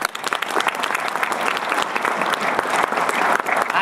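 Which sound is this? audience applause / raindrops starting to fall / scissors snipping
audience applause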